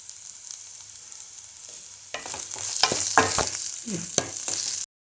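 Ginger heating in coconut oil with tamarind water, quiet hiss at first, then a louder sizzling bubble with stirring scrapes and knocks of a spoon against the pan before it cuts off abruptly.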